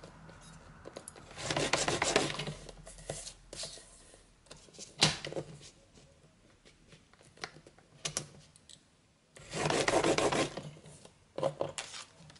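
Cardstock being pre-folded and creased by hand while making a scrapbooking presentation box, giving soft close rasping and rubbing strokes in a few short bursts, quiet, with faint sounds between.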